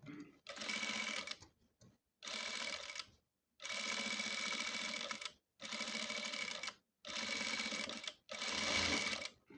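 A sewing machine stitches the neck of a churidhar lining in six or so bursts of close, buzzing motor noise with brief stops between runs.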